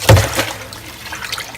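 Water drains from a pipe pulled out of an aquaponics swirl filter, beginning with a sharp splash and then settling into a soft, close trickle with no talking.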